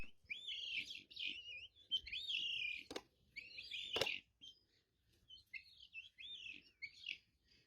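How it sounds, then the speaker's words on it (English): A vulturine guineafowl gives repeated loud metallic chink calls in short bursts, with a couple of sharp clicks between them against a quiet background. "It makes loud chink dash chink dash chink dash chink dash chink calls."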